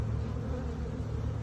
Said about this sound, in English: returning bees are returning to the hive entrance